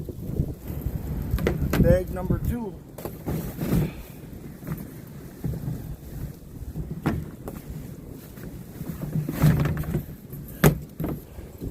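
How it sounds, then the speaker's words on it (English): Gusty wind buffets the microphone in low rumbling surges, with a person speaking briefly and some knocking sounds. "Man, it's windy again."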